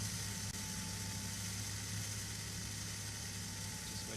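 A steady, continuous Formula 1 car engine whir with a low idling rumble at the 2021 Dutch Grand Prix practice, holding constant throughout without any voices.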